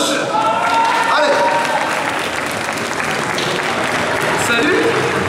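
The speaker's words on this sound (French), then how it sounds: "On l'applaudit, on courage" Loud, sustained applause from a convention show audience in Fréjus, dense clapping filling the whole stretch with crowd noise and scattered voices mixed in.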